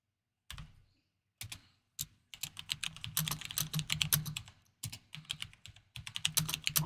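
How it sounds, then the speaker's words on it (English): Rapid clicking of a computer keyboard being typed on close by, coming in short bursts with brief pauses and then a longer dense run of keystrokes, with no voices. "I was typing into the chats, giving away games"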